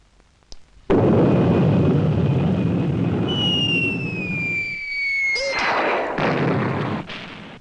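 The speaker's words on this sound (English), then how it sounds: "Bombs were flying thicker and faster than ever before" Rocket bombs burst in a heavy, sustained explosive roar with a rising whistle and a sharp secondary blast, loud and close, then cutting off abruptly.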